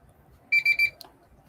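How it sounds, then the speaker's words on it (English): Timer alarm going off with three quick, shrill electronic beeps in a row, followed by a brief click, fairly close against a quiet room. "There's the timer."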